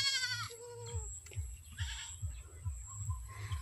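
Goats bleat near rice fields, several short, wavering calls that come one after another, with a steady low thumping underneath and faint background noise.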